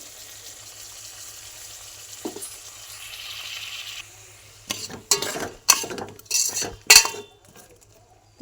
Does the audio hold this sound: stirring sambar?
yes